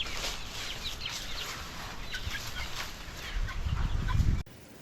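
Chickens clucking softly nearby in the open air as they graze in a village, with scattered calls and faint rustling, ending with a brief rise in noise before cutting off.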